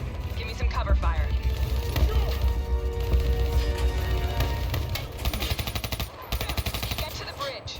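Machine-gun cover fire in a Call of Duty: Black Ops 3 battle: loud, sustained bursts of rapid automatic shots with sharp cracks and impacts, crowded together and close, with voices speaking over the shooting.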